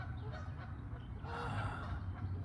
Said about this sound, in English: There's also the sound of geese, which is pretty lovely.